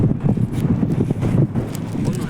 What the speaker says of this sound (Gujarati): પવનના પણ સુસવાટા એમ બોલે છે અહીંયા.